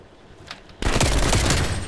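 Gunfire from Call of Duty: Black Ops Cold War in a gun game match: quiet for a moment, then a sudden loud, dense burst of rapid automatic shots that keeps going without a break.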